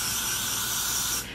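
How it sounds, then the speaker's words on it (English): Hair spray misted onto a wig, one loud continuous aerosol hiss held for just over a second before cutting off abruptly, close to the microphone with no talking. "So now what I'm gonna do is spray this again on this side, just like that."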